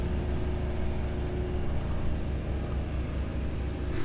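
A vehicle in a rescue attempt drives under its own power. It gives a steady, low engine rumble throughout, moderately loud and unbroken, with no talking.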